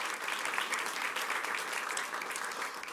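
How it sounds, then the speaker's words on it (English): Steady applause from an audience at a school board meeting, a dense patter of clapping that keeps an even level for a few seconds without voices. "Let's give them a round of applause for that."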